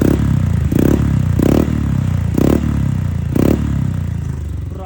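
A Honda ADV 150 scooter fitted with a high-mounted Kvin aftermarket exhaust pipe runs at low RPM, its close, throaty burble rising in five short, regular throttle blips over a steady idle.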